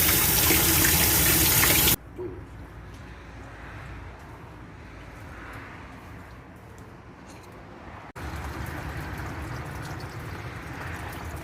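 Water gushes and splashes steadily, flushed through the upper hose and car radiator into a container, pouring out in a continuous stream, with a brief loud burst at the start and a short break partway.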